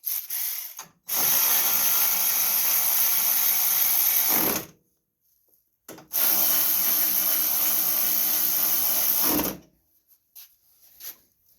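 Bolts being tightened on the starter of a 2002 Craftsman riding lawn mower, two long steady whirring runs of a few seconds each with a short pause between, close and loud, with no talk.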